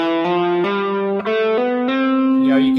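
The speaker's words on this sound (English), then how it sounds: "you want all your notes to have a snappy pull-off and snappy hammer-ons" Electric guitar playing a rapid Locrian-mode run of forceful, snappy hammer-ons and pull-offs through a distorted effects tone, each note crisp and distinct, close and loud, with no talking.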